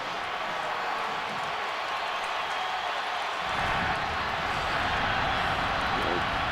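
Stadium crowd at an Auburn vs Alabama college football game gives a broad, distant roar that swells louder midway through, with no clear voices on top.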